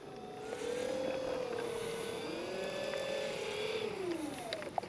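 Avios Twin Otter RC model plane flying past, its twin electric motors giving a steady droning whine that rises and falls in pitch as it passes, fairly distant and continuous throughout.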